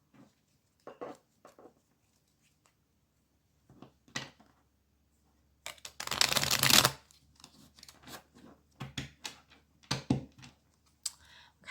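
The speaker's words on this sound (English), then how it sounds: "I'm not able to shuffle the cards" Tarot cards being shuffled in short bursts of riffling and snapping, with one longer, louder shuffle in the middle and scattered softer card handling around it, close and clear with no talking.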